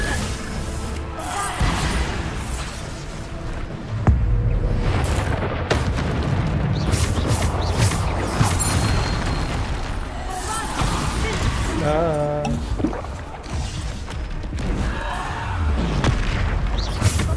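Bombarda explosion spells go off in combat in the Hogwarts Legacy video game, heavy booms and bursts layered over a dense, busy battle mix while a voice speaks now and then.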